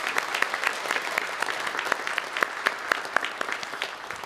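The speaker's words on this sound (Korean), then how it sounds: "우리 박수로 환영하도록 하겠습니다." A church congregation at a Sunday worship service claps to welcome newcomers, a moderate, somewhat distant patter of individual claps with distinct sharp hits, fairly quiet overall.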